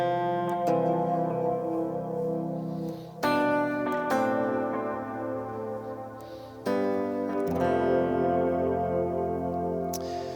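Hybrid-picked lead guitar melody with added root notes beneath, played alone and softly, with ringing chords that sustain and decay in a few separate phrases.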